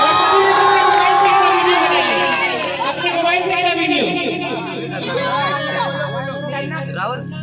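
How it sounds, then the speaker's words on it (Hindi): A crowd at a Vishnu Mahayagya religious gathering in Betul cheers and claps in a loud, continuous burst, with chatter and voices mixed throughout. "एक जोरदार ताली।"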